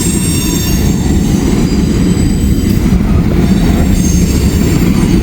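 A freight train hauling coke, a coal derivative, with cars that look empty, rolls past close by in a loud, steady roar of rumbling wheels and rail noise, with faint squeals and no voices.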